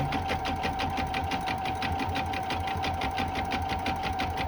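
An embroidery machine stitches thread in a rapid, even mechanical chatter with a steady hum beneath, close and continuous for several seconds without talk.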